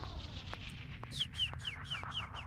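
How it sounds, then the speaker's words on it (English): Nearby, a bird gives a rapid run of about five short, bright, descending chirps at an even rhythm, over low background rumble, with a few soft clucking or tapping sounds around them. "it's a birdie. Hi, birdie."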